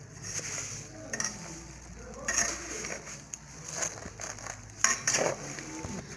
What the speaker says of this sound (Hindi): इसको हम नॉर्मल आंच पे भूनेंगे जब तक ये ब्राउन नहीं हो जाते हमारे